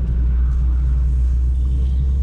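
An Alpine sports car's engine rumbles loud and steady at close range on the Circuit du Var racing track, a deep continuous drone with no speech over it.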